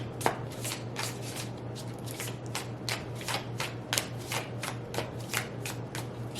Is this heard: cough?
no